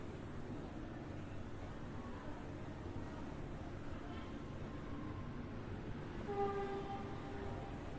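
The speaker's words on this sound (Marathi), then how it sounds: "आता आपल्या कुकरच्या सात शिट्ट्या झाल्या त्या" A pressure cooker cooking mutton lets out a faint, thin whistle near the end, rising briefly above a low, steady kitchen hum.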